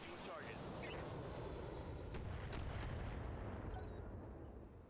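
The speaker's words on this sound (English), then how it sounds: "Precision strike. On the spider." Precision artillery strike in the mech combat game BattleTech, a dense, sustained rumble of distant booms and blasts rolling on for several seconds, with a voice talking over it.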